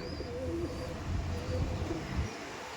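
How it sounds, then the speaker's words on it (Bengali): A pair of Saharanpuri Kaldam pigeons coo in low, rolling notes close by, repeating steadily over a soft background hum. "এই দেখুন 4 নম্বর সাহারানপুরি কালদম জোড়া দেখাচ্ছি"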